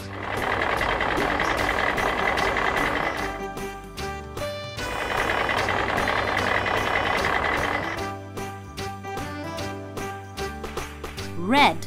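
Truck engine idling with steady reversing beeps, a loud continuous rumble broken by brief gaps, with a rising tonal chirp near the end.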